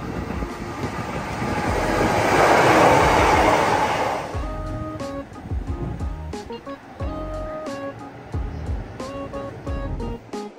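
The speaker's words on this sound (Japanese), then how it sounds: "右の方を高速で通過したのは総武快速線になります。" Trains rush through Makuhari-Hongo station in Chiba on the Sobu Rapid Line, a loud rising roar that peaks and fades, followed by rhythmic wheel clatter over rail joints as cars pass close by.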